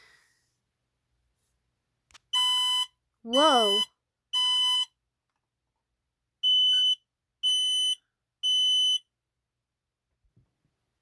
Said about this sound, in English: Look at all these smoke alarms